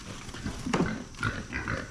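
A pig grunts in short, rough bursts at close range on a farm with heifers, with no talk over it.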